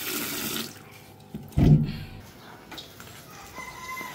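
Tap water runs over pongapong, elephant foot yam, as it is washed at a sink, a brief hissing stream followed by a louder splash, then a quieter trickle.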